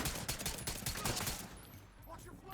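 Pistol gunshots from The Division 2, a rapid burst of sharp shots in the first second and a half, then quieter game ambience with scattered faint effects.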